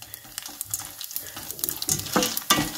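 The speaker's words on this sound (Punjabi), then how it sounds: "ਅਸੀਂ ਮੱਕੀ ਦੇ ਦਾਣੇ ਵਿੱਚ ਐਡ ਕਰ ਦੇਣੇ, ਅਤੇ ਅੱਛੀ ਤਰ੍ਹਾਂ ਅਸੀਂ ਮਿਕਸ ਕਰ ਦੇਣਾ ਇਹਨਾਂ ਨੂੰ" Corn kernels are stirred in a pan of melted sugar and ghee for sweet popcorn, giving a scraping, sizzling mix of rustles that builds louder toward the end, close and without talk.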